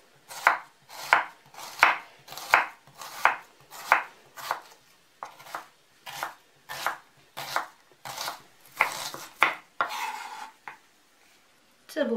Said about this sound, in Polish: Cebulę pokroję na kostkę.